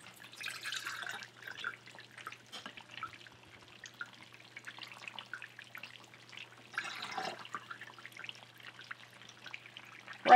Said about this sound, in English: I'm going to be straining it through this strainer here just to make sure there aren't any bits or impurities that get in there.